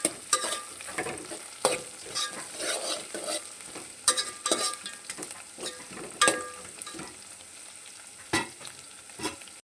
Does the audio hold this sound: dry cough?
no